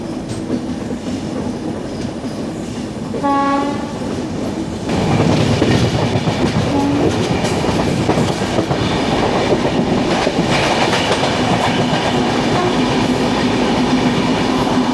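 The Eranad Express passes on an Indian railway line, its loud rumble and rhythmic clickety-clack of wheels over rail joints filling the scene, preceded by a brief horn-like tone, close and continuous.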